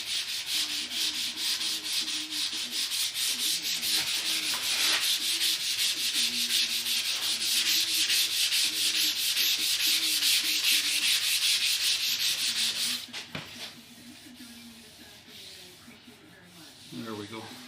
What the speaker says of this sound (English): I mean, I'm used to sanding.